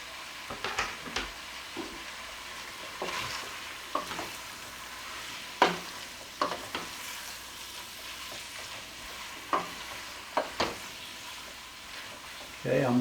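Hamburger meat and one chopped medium onion brown in a pot with a soft, low sizzle, broken by repeated scraping stirs and utensil knocks.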